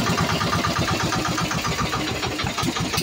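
A small fishing boat's engine, out on a crab-fishing trip, runs loud and close with a steady, fast chugging pulse that continues unbroken throughout.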